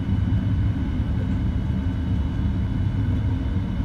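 Airliner reverse thrust after landing in the Prepar3D flight simulator, a steady loud low rumble and engine roar with no break.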